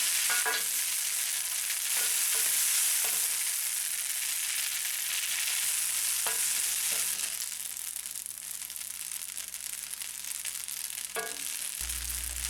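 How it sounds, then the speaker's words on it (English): Spaghetti tossed in a frying pan with olive oil, a steady close sizzle with occasional scraping and clinking of utensils against the pan. "now we add the pasta to the pan and toss it all together to coat the pasta with olive oil"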